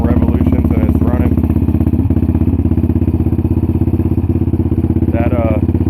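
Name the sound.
2008 Yamaha Raptor 700R ATV cold starting and idling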